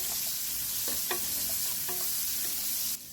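Onion and garlic sautéing in a hot pan, a steady loud sizzle with a few scraping stirs of a utensil, then the sizzle drops off abruptly at the end.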